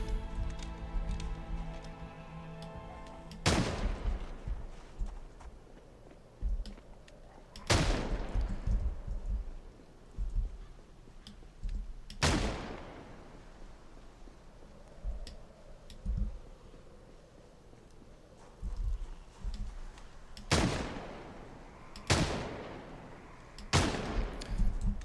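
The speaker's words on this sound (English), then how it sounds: "those were bad shots" Gunshots in the zombie survival game Project Zomboid, about seven loud sharp cracks spaced unevenly a few seconds apart, each with a short decaying tail over a low background hum.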